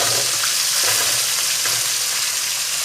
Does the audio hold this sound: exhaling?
no